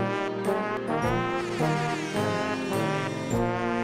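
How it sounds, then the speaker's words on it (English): Blaring air-horn tones repeat in rhythmic bursts over layered electronic music in the video game Trombone Champ, loud and sustained throughout. "That air horn is actually in the anthem as well."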